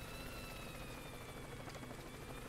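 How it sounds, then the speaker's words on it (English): A helicopter in the video game Worms W.M.D. whirs with a faint, steady rotor drone and high engine whine, continuous and unbroken for a few seconds. "I'm just gonna use the helicopter."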